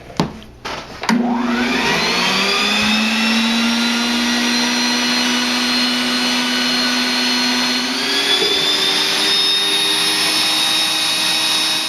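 An electric mixer whirs loudly and steadily as it beats a potica filling mixture until thick, starting with a brief stutter and then a sustained motor whine that shifts slightly in pitch near the end; no talking.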